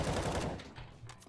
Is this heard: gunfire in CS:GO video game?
yes